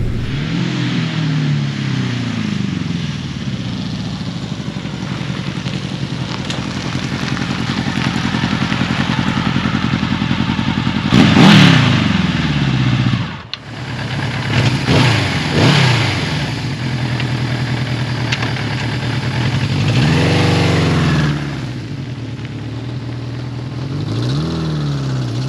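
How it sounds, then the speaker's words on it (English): A 1981 Suzuki GS550T motorcycle ridden on the road, its engine droning steadily with gear changes and rising and falling revs, one sharp dip midway, and wind noise over the ride. "I am currently riding Suzuki's 1981 GS550T back to back"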